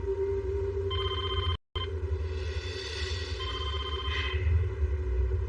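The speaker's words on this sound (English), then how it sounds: "It's always especially difficult for me to be interrupted in that process by the phone ringing" A telephone rings alone in a quiet room, its electronic tones repeating in steady bursts with a brief total dropout partway through.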